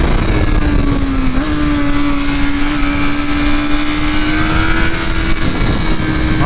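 A 2023 BMW M1000R motorcycle with a flashed ECU tune accelerating hard, a loud, continuous engine roar that climbs steadily in pitch, with a slight step as it shifts, close and dominating throughout.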